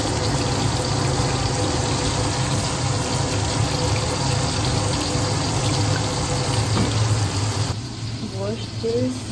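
Tap water running steadily into a kitchen sink for washing while fish and shrimp are cooked, a constant gushing rush that thins near the end, with voices talking over it.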